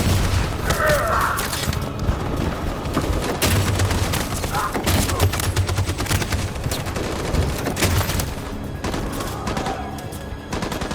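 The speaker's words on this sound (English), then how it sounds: "That machine gun has taken down everything that moved!" Machine gun fire rattles through a battle in the video game Detroit: Become Human, sustained dense bursts mixed with booms and impacts over a continuous rumble.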